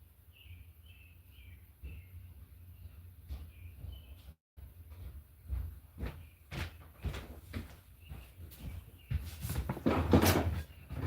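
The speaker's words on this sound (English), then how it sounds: "I went to open the doors so the dogs go out" Several knocks and clunks of a door being handled and opened, with faint birdsong in the background and louder rattling near the end.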